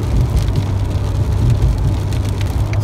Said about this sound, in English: if you're wondering, still raining.